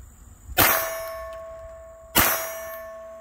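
.25 ACP pistol rounds strike a steel target, two bright metallic clangs about a second and a half apart, each ringing out with a lingering tone.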